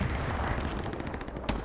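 Gunfire striking a tank in a video game: a dense, continuous rattle of shots and impacts, fairly loud and steady, with one sharper crack near the end, no talking.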